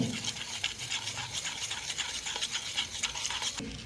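A spoon stirring cornflour into milk in a small bowl, quick repeated scraping and swishing strokes, close and soft, steady throughout with no talking.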